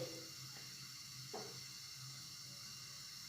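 Milk batter for a corn snack heats in a pan on a gas stove while being stirred, giving a soft steady sizzle and hiss with a few faint scraping sweeps of the spoon; quiet, close and wordless.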